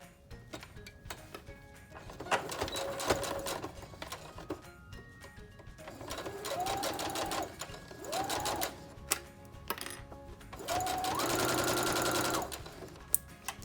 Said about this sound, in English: we're gonna take it to the sewing machine